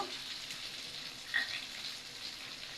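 Mango pickle with sugar is stirred in a pan, a soft, steady sizzling hiss with faint scraping running evenly throughout, close and fairly quiet, with no voices.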